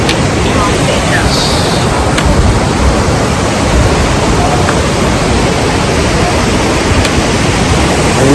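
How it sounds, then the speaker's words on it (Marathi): A river along the Yamunotri pilgrimage route rushes close by, a loud continuous broadband roar of fast-flowing water filling the whole stretch, with a voice faintly present beneath it. "इकडे जवळच नदी आलेली आहे"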